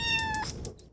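Cat meowing at an animal shelter set in a converted school building, a single close, loud tonal meow with harmonics lasting about half a second, followed by quieter background noise.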